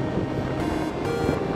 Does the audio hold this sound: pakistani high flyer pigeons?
no